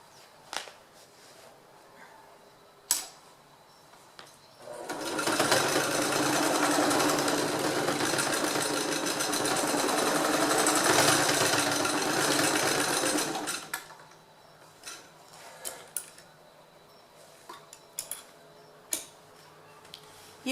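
Sewing machine stitching bias binding onto the underside of a bag strap in one steady, continuous run of about nine seconds, with quiet handling ticks and taps before and after.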